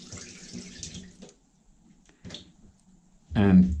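Weak, feeble water flow from a Heritage Deluxe Thermoflex shower unit that has run poorly for about two years. A soft hiss comes and goes, then a louder gush near the end.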